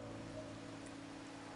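Rain in the Wuthering Waves video game, a steady soft hiss of falling drops, faint and continuous, with no talk.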